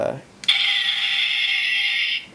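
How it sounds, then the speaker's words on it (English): A sharp click followed by a steady, buzzy electronic whir lasting nearly two seconds, loud and close, ending abruptly. "pretty much make shooting sounds"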